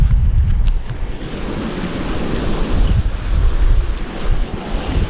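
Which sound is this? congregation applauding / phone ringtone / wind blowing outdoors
wind blowing outdoors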